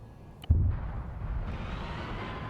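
A single deep bomb blast in a military video game lands as one loud, low boom that decays into a sustained rumble and hiss.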